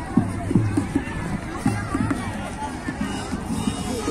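Crowd of people at a Ganga bathing ghat: a steady babble of many voices, mixed with close speech and movement, fills the scene without a break.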